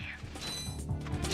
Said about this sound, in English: Why did my wrench hit him?